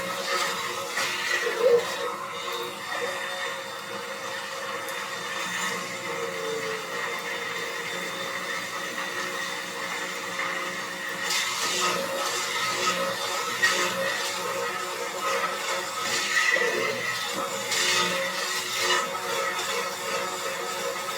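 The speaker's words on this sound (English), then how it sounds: "the last thing that's going to get pureed is the beet, because the beet is the hardest of the vegetables" A blender runs steadily, pureeing chunks of beet into a sweet potato and cauliflower soup, its broad whirring motor noise continuous and fairly close, with a brief surge in intensity partway through.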